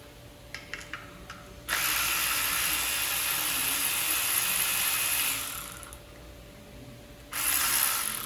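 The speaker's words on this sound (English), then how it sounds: "So I'm just going to go all the way around, get these pan bolts off" Hand ratchet clicking steadily while backing off oil pan bolts on a 1994–97 Mazda Miata 1.8-liter engine during a short block teardown, with a few light taps first, then a long run of close, fast clicks, a pause and more clicking.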